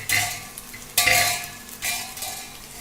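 Potatoes frying in a pan with a lid, heard as three bursts of hissing sizzle and stirring scrapes about a second apart, close and fairly quiet between bursts.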